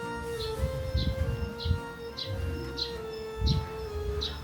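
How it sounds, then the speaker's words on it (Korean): Short high bird chirps repeat at a steady pace, about one every half second, over a constant tonal hum and low background rumble, at a rural spot in Yeongyang County, North Gyeongsang Province, South Korea. "난 이런 짹짹 소리가 참 좋더라."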